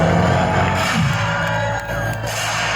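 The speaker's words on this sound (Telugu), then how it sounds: "చప్పట్లు కొట్టారు గట్టిగా ఆర్టిస్ట్ బాబుకి." A loud college-fest crowd cheers, whoops and shouts for comedian artist Babu, a dense sustained roar with scattered bangs and music underneath, no pauses.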